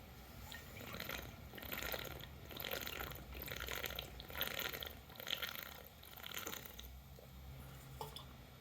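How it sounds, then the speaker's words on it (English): Someone drinks water in steady repeated gulps, with soft rhythmic swallowing and liquid sounds over quiet background noise, close and faint, with no talking. "I'm going to take a drink of water here."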